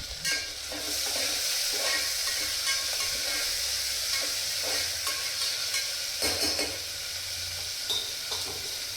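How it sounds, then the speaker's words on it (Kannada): Tomatoes sizzle loudly in a hot tempering while a spoon stirs them around the pan, a constant hissing fry punctuated by repeated scraping strokes, close and without talk. "ಟೊಮೊಟೊನ ಆ್ಯಡ್ ಮಾಡಿ 2 or 3 ಮಿನಿಟ್ಸ್ವರೆಗೂ ಅದನ್ನು ಫ್ರೈ ಮಾಡ್ಕೋಬೇಕು ಚೆನ್ನಾಗಿ."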